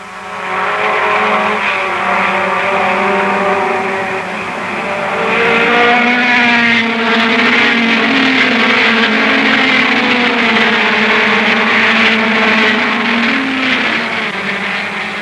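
Early-1960s Ferrari and Lotus racing cars roar off at a race start in the wet, with high, loud engine wails rising and overlapping as the pack accelerates, continuous for the whole stretch.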